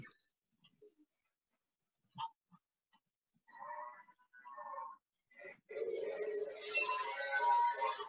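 Animal sounds from a toy train cattle car on a Lionel postwar train set, a few short bleating and grunting electronic calls, sparse at first then a longer continuous bleat, quiet and close.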